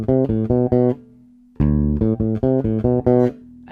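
A bass guitar plays a short melodic bass line of plucked notes, a quick run with a sustained note between phrases, clear and close.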